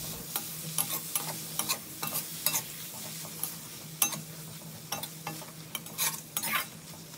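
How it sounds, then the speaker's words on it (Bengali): Tomatoes and browned onions frying in a pan for a shrimp dish, with a soft sizzle under repeated sharp scrapes and taps of a spoon stirring against the pan, close and fairly quiet. "টমেটোটাকেও ভালো করে নাড়াচাড়া করে নেব।"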